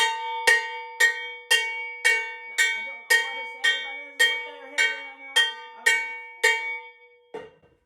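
Cowbell struck about a dozen times in a steady, even rhythm, each metallic clank ringing briefly, loud and close with nothing else underneath.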